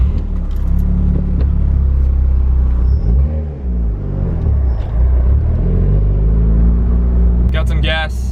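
Loud oil-burning MK6 Golf R rumbling at a gas station, a deep engine and exhaust drone with a few rising revs, heard close under someone talking.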